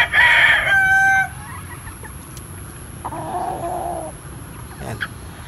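A Boston Roundhead rooster crows loudly and close at the start, then gives a few softer clucks a couple of seconds later.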